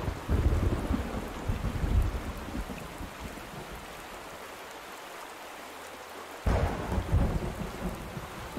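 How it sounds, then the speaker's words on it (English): Thunder and heavy rain in the video game A Space for the Unbound: a loud rumbling thunderclap over steady rainfall, easing to softer rain before a second sharp crack bursts in, with no voices. "Sorry, I was startled by that thunder."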